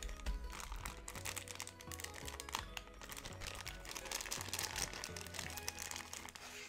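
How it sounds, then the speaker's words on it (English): Cardboard and plastic packaging of a Pokemon Scale World toy set crinkles, tears and rustles at close range in a quiet room, with quick scratchy bursts and no talking. "that was the worst box opening ever"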